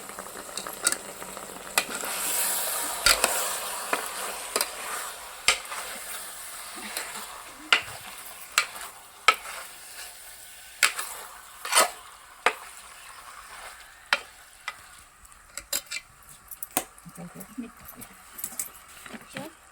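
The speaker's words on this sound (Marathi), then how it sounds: "छान असं चिकनला उकळी आली आहे." Chicken cooks in a pot over a wood-fired village stove as it is stirred; a spoon scrapes and clinks against the vessel in irregular, fairly close knocks over a low simmering bubble, with people talking faintly in the background.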